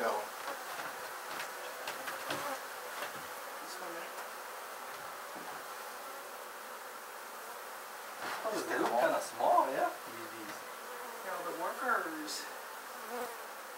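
Honeybees buzz steadily throughout a hive removal as they are shaken loose, a dense insect drone with brief louder swells near the end and faint voices talking in places.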